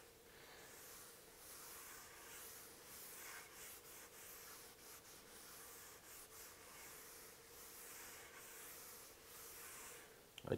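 Oil finish being rubbed onto a wooden piece with full, long strokes along the grain, a soft steady hissing rub that continues evenly throughout with slight rises and falls, close and fairly quiet, with no talking.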